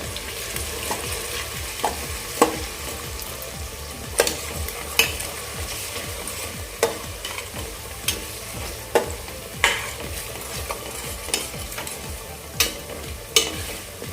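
Kashmiri red chilli and spices are stirred in a pan for prawn biryani, a low steady sizzle with regular spoon scrapes and taps every second or so, close but fairly quiet.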